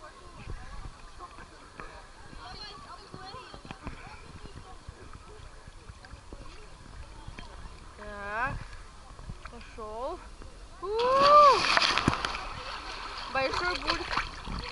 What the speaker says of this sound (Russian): Большой бульк.